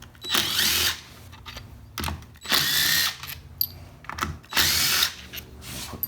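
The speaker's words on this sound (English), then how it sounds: "now we're gonna remove these 3 10mm bolts which hold the 1-2 accumulator assembly on" A power tool whirs in three sustained bursts while removing 10mm bolts from a 1-2 accumulator assembly on a 4L60E transmission during disassembly, with brief clicks and clatter between runs.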